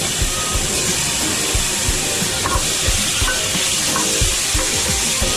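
Fresh abalone stir-fried in a pan after garlic has been fried and removed, a dense steady sizzle with frequent scraping knocks of the utensil against the pan, close and continuous, no voices.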